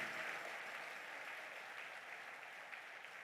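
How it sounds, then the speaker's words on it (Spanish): Steady applause from a church congregation, a dense continuous wash of clapping that holds at an even, fairly loud level throughout. "Dele ese aplauso más fuerte."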